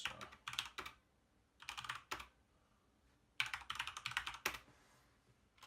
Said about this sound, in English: And it's not as loud when I'm actually typing different sentences in